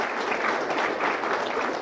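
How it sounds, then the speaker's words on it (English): An audience at a televised budget forum in Ghana claps in a brief, steady burst of applause. "A round of applause for her."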